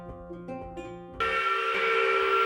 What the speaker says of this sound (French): La vie à l'usine était régie par ce sifflet-là